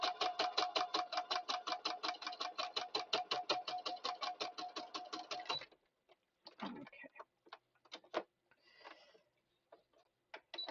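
Sewing machine stitching fabric for a bunny bag, a rapid, steady run of close mechanical needle clatter for several seconds, then stopping, followed by scattered faint handling clicks and rustles.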